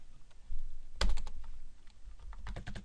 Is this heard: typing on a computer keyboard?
yes